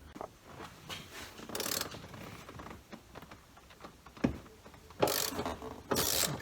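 A socket wrench ratchets on a rear shock bolt of a Nissan 300ZX Turbo, soft irregular clicking and scraping at close range with a few sharper bursts, no talking.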